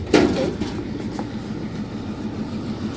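Steady low rumble of a moving passenger train heard from inside a carriage, a continuous broadband drone with a brief louder knock near the start, no talking.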